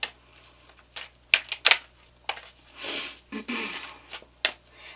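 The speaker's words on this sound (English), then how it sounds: "This is the Gilded Tarot that we're shuffling right now." A Gilded Tarot deck is shuffled by hand at close range, quiet crisp riffles and card slaps arriving in irregular bursts separated by near silence.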